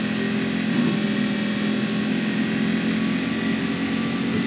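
A car engine in the video game Just Cause 3 drones loud and steady throughout, a constant buzzing hum at even pitch with no speech over it.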